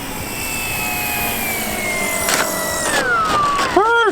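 An E-flite P-51 RC model plane comes in to land, its small motor giving a steady whine that slides down in pitch and then bends sharply as the craft passes near and touches down.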